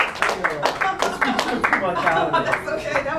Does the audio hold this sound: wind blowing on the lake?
no